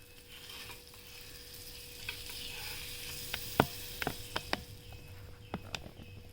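Lachha garlic paratha frying in butter on a pan, a soft low sizzle under a series of sharp clicks and taps from the spatula spreading butter around, quiet and close.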